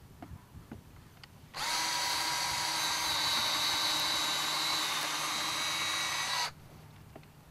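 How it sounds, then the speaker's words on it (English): A power drill bores into a wooden duck decoy backed by a board, a steady high whine starting abruptly, holding for about five seconds, then stopping, close and loud. "And I would just take and drill it"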